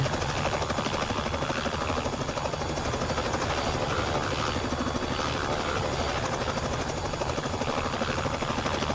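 Robinson R66 helicopter in the X-Plane 11 flight simulator, its rotor and turbine drone loud and steady throughout, circling around for a landing loop with no speech.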